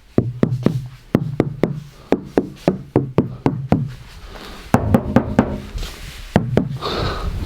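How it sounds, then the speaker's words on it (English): A series of hollow knocks on the metal roof of a Subaru STI, struck in quick groups of two to four with short pauses between them, close and fairly loud. "and I knock on the roof"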